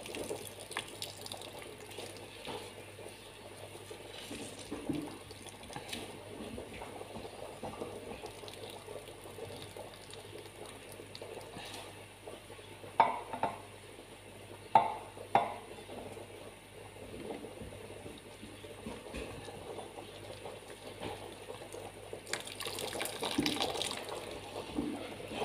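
Water drains out of squeezed, chopped salad vegetables left to drip in a couscous steamer. It makes a quiet, continuous trickle with a few louder drips near the middle, and no one speaks.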